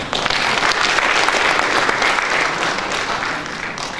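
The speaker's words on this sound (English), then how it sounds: "another round of applause for him." Audience applause at a national students' economics debate at a university, dense steady clapping from a large crowd, loud and sustained for several seconds.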